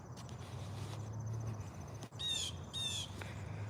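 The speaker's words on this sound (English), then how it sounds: "It's that same bird as always." Bird calling outdoors in two short, bright bursts of chirping late in the stretch, over a steady low rumble of background noise.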